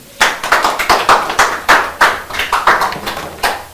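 A sales and trading class claps for a student, about fourteen distinct, fairly loud hand claps in a quick, slightly uneven rhythm from a small group close by.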